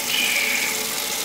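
Tap water runs steadily into a sink as a clearomizer part is rinsed, a close, continuous hiss and splash lasting about a second.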